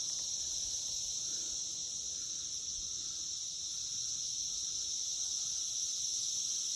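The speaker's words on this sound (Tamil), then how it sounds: "ஜிர்ன்னு காட்டுக்குள்ளே கேட்கும், அந்த சில்வண்டு தான் இது." Cicadas buzzing in a forest, a steady, continuous high-pitched drone that holds unbroken throughout at moderate volume, with no voices.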